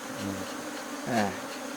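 Honeybees drone steadily around a village hive, a close, continuous buzz that swells briefly as one insect passes near, with no talking.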